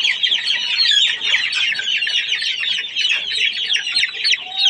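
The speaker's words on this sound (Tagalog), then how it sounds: "1 month pa lang natilaok na ito." A one-month-old young rooster crows in thin, high, wavering calls, close and fairly loud, with other chicken clucks mixed in and no talk.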